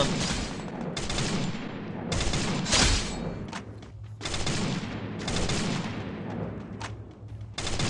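Rapid gunfire bursts in the Free Fire battle game, several loud volleys of automatic shots separated by short pauses, dense and close throughout.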